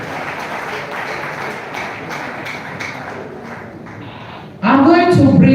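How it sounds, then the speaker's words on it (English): An audience at an anniversary event for the 1929 Aba Market Women's Riot gives a steady round of applause. Near the end a louder voice cuts in over the clapping. "Please, another round of applause to the microphone."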